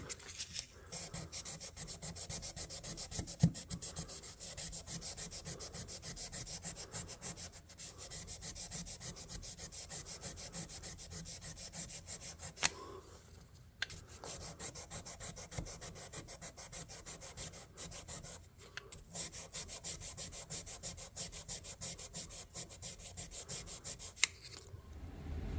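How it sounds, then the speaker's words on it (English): A miniature Bowie knife blade rubbed with 2000 grit sandpaper, steady fine scratching strokes repeating close up, quiet and continuous with a couple of brief pauses and no talking. "I did some sanding with the 2000 grit and then stepped up to the 2500 grit"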